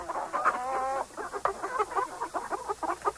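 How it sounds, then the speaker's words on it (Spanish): A calm turkey, soon to be caught for Christmas, gives a rapid warbling run of gobbles and clucks, close and alone, in short bursts one after another. "Este es un pavo tranquilo."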